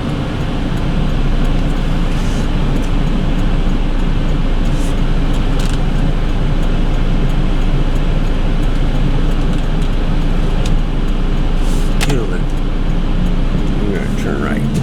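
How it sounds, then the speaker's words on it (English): Steady road noise fills the cabin while driving in traffic, a constant low rumble of tyres and engine, loud and unbroken, with someone talking over it. "Then I have to deal with the traffic."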